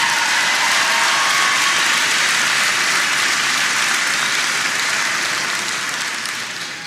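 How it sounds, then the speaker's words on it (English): A large town hall crowd at a community college gives a sustained, loud, dense round of applause, a continuous roar of many hands that fades slightly toward the end. "Give Bill Grace a big round of applause."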